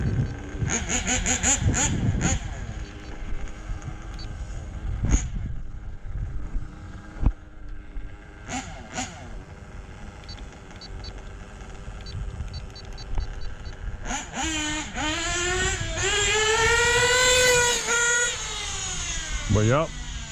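Kyosho and Hobao RC trucks running, with motor whine rising and falling in bursts, a few sharp revving passes and a sustained high-pitched surge near the end, over wind noise and some voices talking.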